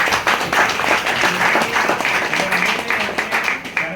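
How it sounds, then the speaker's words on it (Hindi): Dense, steady applause from an audience at an industry program honoring the Kiwa company, filling the full four seconds at close range with some voices mixed in. "इस कीवा इंडस्ट्री के लिए एक बार आप लोग से जोरदार तालियों की उम्मीद करता हूँ।"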